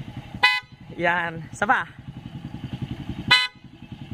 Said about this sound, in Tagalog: Ayan, so loud horn boss.